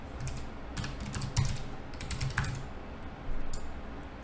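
Quiet typing on a computer keyboard, a steady patter of keystrokes in irregular bursts heard close up with no talking.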